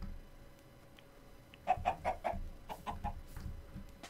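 Chickens in Minecraft cluck in a quick run of four short, bright calls, followed by a couple of softer clucks, over low game ambience with no talking.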